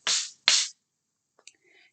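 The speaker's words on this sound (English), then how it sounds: "Sand blocks sound like this." Sand blocks rubbed together in two quick, loud scrapes of gritty hiss, each about a quarter second, followed by a couple of faint small ticks.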